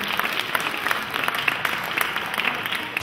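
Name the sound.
audience applause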